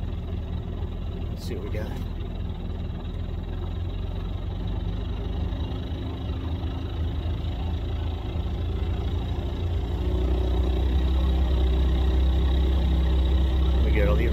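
A 25HP Mercury outboard motor idles steadily on a 1950s Cadillac boat, a low continuous rumble running throughout with a brief spoken remark near the start.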